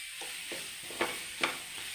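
Egg and onion stir-fry in a pan for egg thoran. A soft continuous sizzle runs under several distinct spatula scrapes, two of them louder than the rest, and there is no talking.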